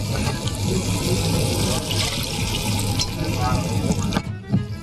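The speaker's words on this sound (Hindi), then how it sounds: "बस मैं इसमें गलने का पानी डाल रही हूँ।" Water is poured into a pot of Delhi-style degi biryani being cooked, a continuous loud gushing splash that thins near the end, with someone talking over it.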